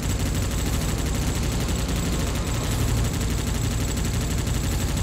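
Sustained, dense gunfire from the PS2 video game Global Defence Force, a continuous loud wash of rapid shots running the whole length with no pauses and no talk over it.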